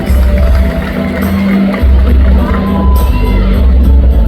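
A festival crowd at a Kadazan Kaamatan pageant in Penang cheers and applauds loudly and continuously, a dense roar with shouts and whoops, while voices carry over the din.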